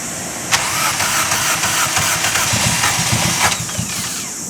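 A Toyota Starlet with a blown head gasket and low compression cranks and runs roughly, its engine noise steady and close with harsh broadband rattle and a couple of sharp bursts.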